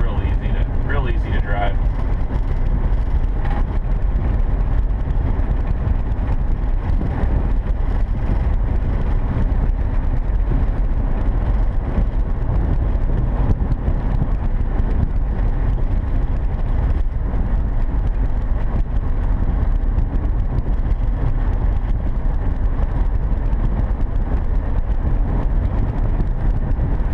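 A 1979 VW camper van drives along with a constant low engine drone and road rumble heard from inside the cabin, steady for the whole stretch.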